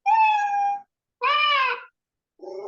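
A cat meow sound effect plays in a block coding program: two clear, close meows, the first long and steady, the second rising and bending, followed by the start of a third.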